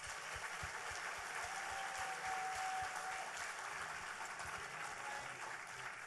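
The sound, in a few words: audience applause at pageant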